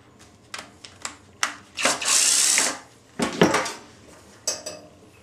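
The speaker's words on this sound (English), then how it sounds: "So let's go ahead and take this front or this top bolt off here." A ratchet wrench loosens a small old bolt on the top of an EZGO Powerwise golf cart charger, giving several sharp metallic clicks and clanks, close by, with a longer burst of rapid ratcheting in the middle and no talk.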